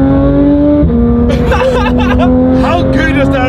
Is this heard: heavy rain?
no